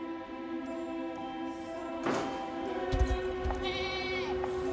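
A goat bleats in the fantasy strategy game Unicorn Overlord, a short burst heard over steady game music, with a thump near the middle.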